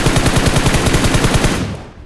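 Rapid automatic gunfire in a mobile battle-royale shooter game, a loud sustained burst of evenly spaced shots lasting about a second and a half before trailing off, no voices.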